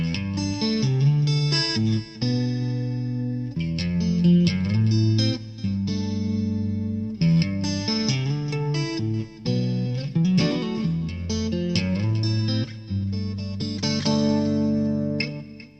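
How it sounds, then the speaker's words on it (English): An Ibanez Jem 7 electric guitar on its neck and middle single-coil pickups gives a clean, slightly chorused Strat-like tone, playing chords and melodic lines continuously, with light reverb and no voices. "two single coil pickups for that Strat type sound, and that's kind of like a tubey analog sound"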